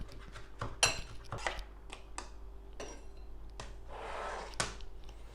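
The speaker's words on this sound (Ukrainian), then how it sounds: "Нарізаємо трішки зелені. Дрібненько." Fresh herbs being chopped finely with a knife on a board, close and fairly quiet, in an irregular series of sharp taps with short soft scraping stretches between them.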